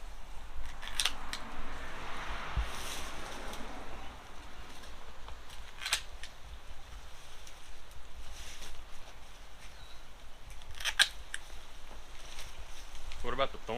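Sharp scissor snips cut the fronds of a Robellini palm tree, arriving as a few scattered crisp clicks at a steady outdoor distance over a constant wind-like hiss.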